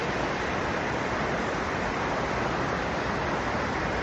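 Floodwater from a broken overflow weir gushes through flooded rice paddies as a steady, loud, broadband roar that holds without a break for the whole stretch, with no voices.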